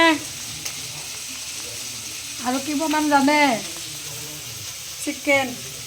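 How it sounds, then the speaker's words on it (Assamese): Chicken frying in a pan gives a steady low sizzle throughout, with someone speaking briefly over it in the middle and near the end. "এয়া ফ্ৰাই কৰা হৈ গ'ল।"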